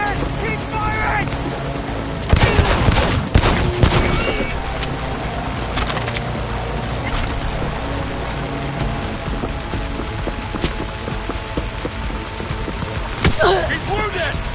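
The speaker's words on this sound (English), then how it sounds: "Keep firing!" Gunfire in the video game Cyberpunk 2077, sharp bursts clustered around a few moments over a steady rumbling, wind-like engine and water backdrop, with voices calling out amid the action.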